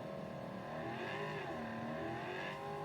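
Car driving in the video game Cyberpunk 2077, a steady, loud engine drone whose pitch rises and dips slightly as it revs, continuous throughout with no talk.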